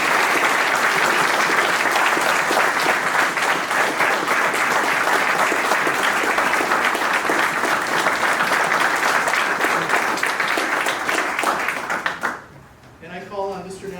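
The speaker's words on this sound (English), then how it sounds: "And now I'd like to just give our new Eagle Scout here one more round of applause." Sustained, loud round of applause from an audience at an Eagle Scout ceremony honoring a new Eagle Scout, steady clapping that fades out near the end as a voice begins.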